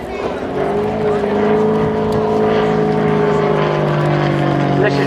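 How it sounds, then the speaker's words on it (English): A propeller aeroplane performing a slow roll at the Shoreham air show drones steadily overhead, a loud, continuous engine note with a slowly shifting pitch, while a commentator talks over it. "Beautiful slow roll, again very difficult in a propeller aeroplane."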